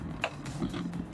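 A low mechanical rumble and buzzing vibration from a racing wheel's force-feedback mechanism during Gran Turismo 7 runs steadily throughout, with brief rattling bursts, close and moderately loud.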